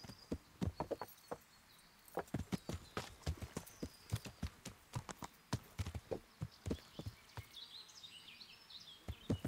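Steady clip-clop of horse hooves on hard ground in the video game Kingdom Come: Deliverance, a quick repeating rhythm of sharp knocks, close and clear, with no talking.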